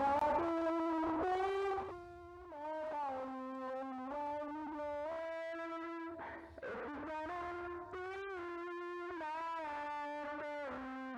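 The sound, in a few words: guitar through a buzz distortion effect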